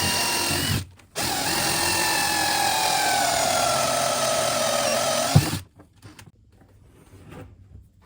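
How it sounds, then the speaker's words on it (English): A drill spins a cone-shaped grinding stone to widen a hole in a diesel tank during a sailboat refit, a loud steady whine grinding continuously for several seconds, briefly pausing near the start, then stopping abruptly into near silence. "And to open that hole, normally I would use a tapered drill bit. But since that's not big enough, I'm going to use this cone-shaped grinding stone."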